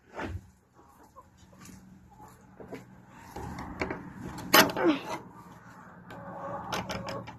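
Hens clucking in a chicken coop, scattered soft clucks and calls close by amid rustling, knocks and shuffling movement, with no talking.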